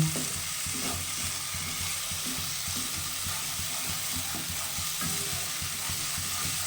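Pumpkin paste with garlic stirs and fries in oil over a low flame, a steady close sizzle with repeated scraping strokes of the spoon running throughout, with no talking.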